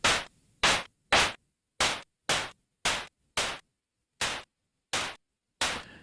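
White-noise retro game sound effects generated in Bfxr play as ten separate short bursts of hissing static, each with a sharp onset and quick decay, spaced by silence in an even rhythm.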